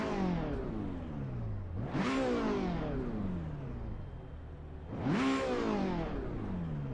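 Car engine revving in Assetto Corsa Evo, two rising upshift sweeps where the revs climb, drop with a gear change and climb again, steady and close with no talk.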